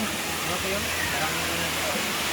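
Waterfall at Balagbag Falls in Real, Quezon, a steady broadband rush of falling water that fills the whole short stretch, close and constant, with faint voices of people nearby under the roar.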